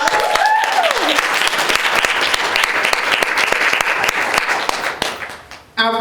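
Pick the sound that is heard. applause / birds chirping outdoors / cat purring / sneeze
applause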